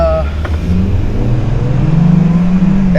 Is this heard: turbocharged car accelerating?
yes